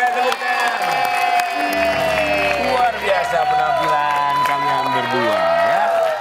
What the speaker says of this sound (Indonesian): jadi Rifki dan juga Dita, boleh kita berikan tepuk tangan.